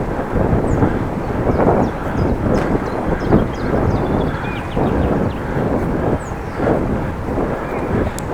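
Steady broadband wind noise buffets the microphone while cycling through flat Dutch countryside, a continuous loud rumble with gusty swells and no talking.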